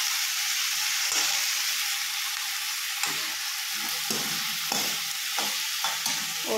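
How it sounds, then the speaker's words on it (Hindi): Vegetables frying in hot oil with bay leaf, asafoetida and cumin give a steady, close sizzle, broken by a few soft stirring scrapes and clicks of a utensil in the pan. "इसमें मैंने डाला है ये तेज पत्ता, हींग और जीरा, और ये सब्जी डाली है अभी। इसको तेल में फ्राई करेंगे पहले।"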